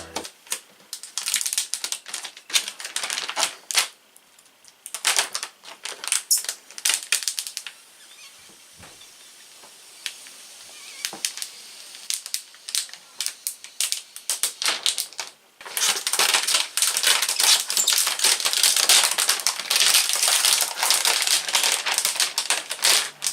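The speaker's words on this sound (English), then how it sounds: "The Apple logo peel." Protective film is peeled off the Apple logo on a new iMac Pro, making crisp, crackling tears in irregular bursts. It builds to a dense, loud, continuous crackle near the end, with no voices.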